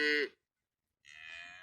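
An upset cow moos loudly and close by on a farm as calves pass, giving two separate calls split by a short silence, the second long and drawn out.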